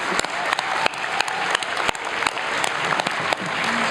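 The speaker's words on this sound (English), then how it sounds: "Let's give a big round of applause for all our amazing Circle honorees tonight" A large audience at an Emmy honors awards ceremony applauds the evening's honorees, with steady, dense clapping at full volume that carries on without a break, and a few sharper claps and cheers rise out of it.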